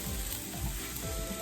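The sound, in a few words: soy sauce added to canned salmon fried rice, sizzling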